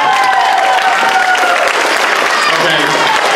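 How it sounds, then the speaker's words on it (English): Applause from a school talent show audience, a dense steady clatter of many hands clapping throughout, fairly loud and close, with no speech over it. "Can we get a big round of applause"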